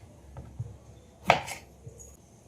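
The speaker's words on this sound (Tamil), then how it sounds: "கொஞ்சம் தக்காளி எடுத்துருக்கேன், அதையும் கட் பண்ணி எடுத்துக்கலாம்" A knife cuts tomatoes on a board during home cooking, giving a few faint, sparse knocks with one sharper cut in the middle, quiet and close with no talking.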